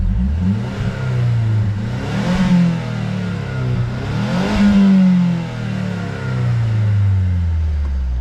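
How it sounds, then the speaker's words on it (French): Two rising and falling revs come from the 2.3-litre, 260 hp engine of a Mazda 3 MPS, heard close over a steady idle. The sound is fairly muffled, with a brief whir as each rev falls away. "On va mettre 2-3 coups d'accélération."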